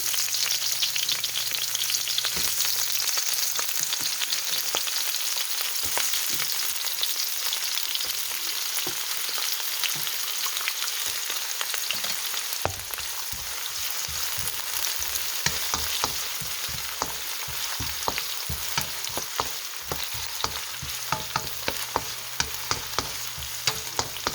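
Garlic and onion fry in oil for Canton noodles, giving a long, continuous sizzle near at hand. Frequent clicks and scrapes of stirring come through, and no speech is present.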